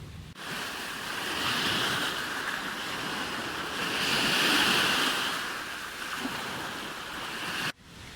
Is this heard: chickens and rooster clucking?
no